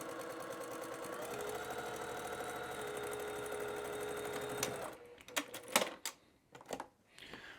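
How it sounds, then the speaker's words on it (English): Sewing machine running steadily for about five seconds while stitching quilt fabric pieces for a sampler block, a continuous whirring stitch that stops abruptly, followed by a few faint clicks and handling noises. "drop the presser foot, and hit the gas"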